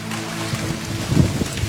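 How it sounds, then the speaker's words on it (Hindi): Steady rain falls in a dense, even patter, close by, with a low rumble underneath and no talking. "अगली सुबह बारिश होने लगी"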